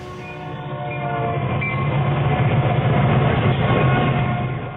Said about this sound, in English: How can you not enjoy a big old train coming roaring at you at 50, 60, 70 miles an hour, making all that noise